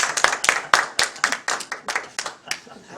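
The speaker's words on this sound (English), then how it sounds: "I think this deserves applause." Scattered clapping from a small meeting audience of a numismatic society, a few pairs of hands beating irregularly and fairly close, with murmuring voices mixed in.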